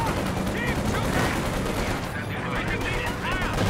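Machine gun fire from an upgraded Panzer IV tank in Company of Heroes 2, rapid loud bursts mixed with other battlefield gunfire and a voice talking over the action.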